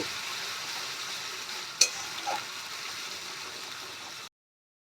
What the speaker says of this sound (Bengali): পেঁয়াজের পেস্টটাকে আমি ভালো করে লাল করে ভেজে নেব